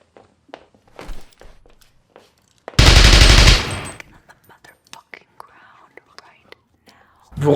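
A loud burst of rapid gunfire erupts for about a second amid quiet whispering, close mouth clicks and soft taps, then another sharp blast hits right at the end.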